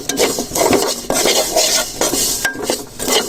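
A jaggery and sesame rewari mixture is stirred in a pan with repeated scraping and clattering strokes of a utensil against the metal, close and busy, with a light sizzle underneath.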